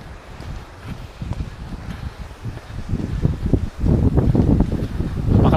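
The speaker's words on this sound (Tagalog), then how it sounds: "Napakalakas ng hangin" Strong wind buffets the microphone beside Tinipak River in Tanay, Rizal, a steady rushing roar that builds louder toward the end with rumbling gusts.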